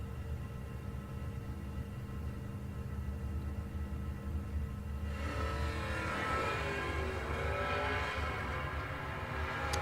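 Drag cars, including an 83 Mustang, launching at a footbrake drag racing event, a steady idle rumble that swells halfway through into a loud rising engine roar as the cars run down the track.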